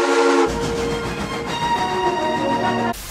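Steam locomotive GSMR #1702 sounds its whistle in one loud, steady, sustained tone that cuts off sharply at the end.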